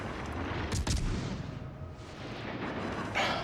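Warship guns fire in the naval battle game World of Warships: Legends, with sharp booming shots near the start and again near the end over a rumbling battle background.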